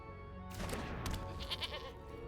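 A goat bleat as the Possessed Goat card is played in a digital card game: a short, wavering bleat followed by a second, thinner cry, fairly close and clear, with no talk over it.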